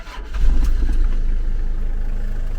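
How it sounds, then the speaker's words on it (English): A 1997 Toyota Town Ace with a 2.0 diesel engine cranks and catches, then settles into a steady, loud low rumble at idle, heard close up and alone. "here's a startup demonstration."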